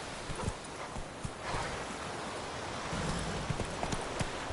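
Hooves of Roach, a horse in The Witcher 3, clip-clop in a steady walking rhythm at moderate loudness, with a few sharper footfalls standing out over a continuous outdoor background.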